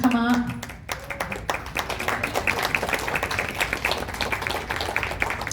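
Hearty clapping from a town hall audience for an employee of the month; a voice speaks briefly at the start, then many hands clap in a steady, close, continuous burst.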